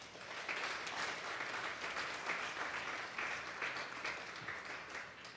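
Congregation at a Spanish-language Thursday Bible doctrine service claps together in steady, dense applause that fills the room at even loudness throughout, with no talk over it.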